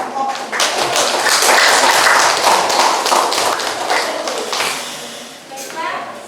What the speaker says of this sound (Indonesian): Tepuk aplaus dulu kita dengan kelompok